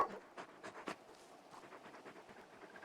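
A very large dog in the game Final Fantasy XVI pants in quick, soft breathy bursts, close and fairly quiet, with no talking.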